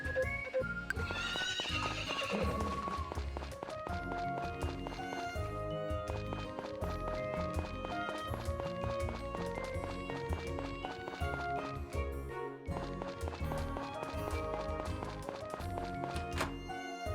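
In the Story of Seasons: Friends of Mineral Town farming game, a horse whinnies early on while hooves run rhythmically under continuous upbeat background music.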